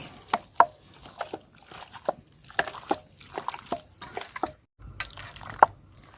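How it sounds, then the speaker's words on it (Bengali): Raw chicken being mixed by hand with spices and a little oil for a Chinese-restaurant-style chicken fry, giving close, wet squelching and slapping pats in an uneven rhythm, with no voices. "তো মশলাটা এখন সুন্দর করে মাখায় নিব"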